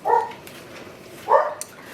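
A dog barks twice, one short bark at the start and another about a second later, fairly close in a quiet indoor room.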